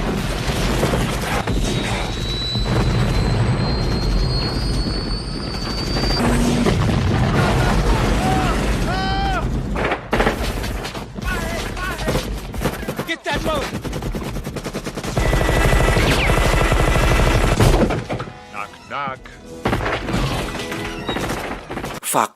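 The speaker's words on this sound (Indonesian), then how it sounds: "Setelah berhasil diledakkan, mereka pun langsung menembak secara membabi liar hingga membuat para pemberontak tewas tak tersisa." Gunfire and explosions from the 1987 film Predator, a dense roar of machine-gun bursts and booms running almost continuously at high level, with a music score and effects layered over the battle.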